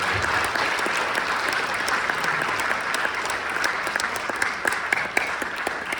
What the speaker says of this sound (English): you can clap for the soldiers